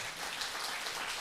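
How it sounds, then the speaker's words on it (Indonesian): A church congregation at a Sunday worship service claps together in a brief, even patter of applause, heard from a moderate distance. "Tepuk tangan buat Tuhan kita."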